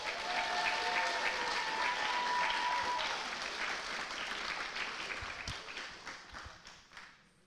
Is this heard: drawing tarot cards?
no